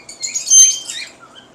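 Birds chirp and squawk in short bursts at a bird market where Kashmiri Raw parakeets and other parrots are sold, with several quick calls close by and a quiet gap between them.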